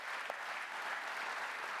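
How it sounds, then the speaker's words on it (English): An audience at a coalition spring kickoff event breaks into steady applause, a dense, even patter of many hands clapping, moderately distant and sustained. "That's worth applause."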